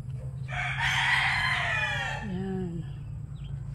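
Rooster crowing loudly and close in a breeding pen with chickens and chicks, one long harmonic crow over a steady low hum, followed by a short fainter cluck and a brief chirp near the end.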